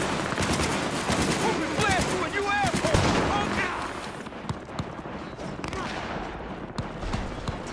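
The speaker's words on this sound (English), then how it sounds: "some of the other gang members getting involved here. Spreading that little gunfight." Gang members trade bursts of automatic gunfire in a street gunfight in Cyberpunk 2077, rapid overlapping shots crackling densely at first, then thinning into scattered distant pops and single cracks.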